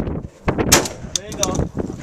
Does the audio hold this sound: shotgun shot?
yes